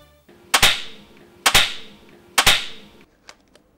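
A children's toy pistol fires three sharp cap-gun bangs about a second apart, close and loud, followed by a couple of faint clicks.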